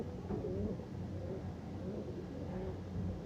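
Low coos from female Kaldum pigeons roll along softly and continuously over a dull background rumble, with no voices present.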